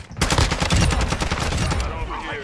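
Rapid automatic gunfire rattles loudly and continuously in the game Call of Duty DMZ, a dense burst of shots lasting nearly two seconds before cutting off.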